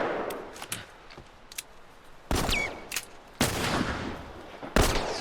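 Gunfire in the video game The Last of Us: several sharp bursts and single shots spaced irregularly, with quieter clicks and background game ambience between them.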